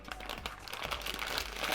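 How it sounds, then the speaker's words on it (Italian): Soft, continuous crinkling of a plastic bag being turned over before vacuum sealing with flavored oils, quiet and close with irregular rustles. "rigiriamo il sacchetto"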